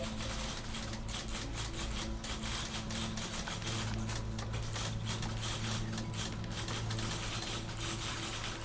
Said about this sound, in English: That's a lot of typewriters.